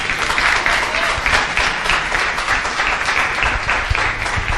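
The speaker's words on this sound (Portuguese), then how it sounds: "Bate palmas e dê glória, igreja." A church congregation applauding during a Portuguese-language service, a dense, sustained roar of many hands clapping at once, steady and loud throughout with a faint crowd murmur underneath.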